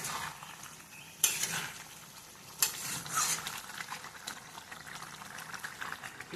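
Potato and pointed gourd curry (aloo potoler dalna) cooks on a home stove, giving a steady soft sizzle and bubbling with occasional stirring clinks of a utensil against the pot, close and without talk.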